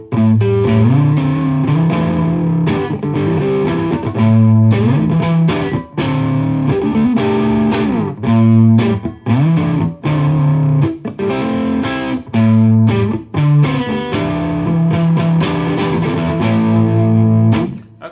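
Distorted electric guitar plays rock licks in a minor pentatonic scale built around minor 7th intervals, with sustained bends and phrases in a loud, steady run with brief gaps.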